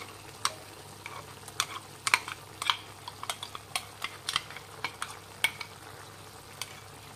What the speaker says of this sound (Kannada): ನಾವೇನು ಮಸಾಲೆ ರುಬ್ಬಿಟ್ಕೊಂಡಿದ್ವಲ್ಲ ಆ ಪೇಸ್ಟ್ ಹಾಕ್ತಾಯಿದ್ದೀನಿ